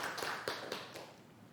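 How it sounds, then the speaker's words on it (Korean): Faint scattered clapping from a small audience at a Buddhist dharma talk, a few distinct soft claps over about a second and a half that fade out. "오, 박수, 박수."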